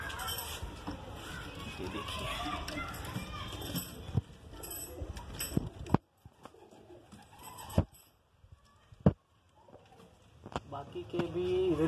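Pigeons coo at a pigeon seller's loft in Mumbai, soft repeated calls among rustling and occasional sharp knocks and clatter, with someone talking nearby throughout.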